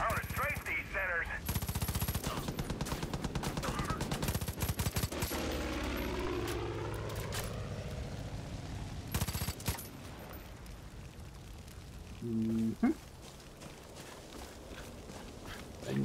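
Plane-mounted machine gun strafing in Far Cry 5, long rapid rattling bursts up close alongside a droning aircraft engine, then quieter stretches with scattered impacts.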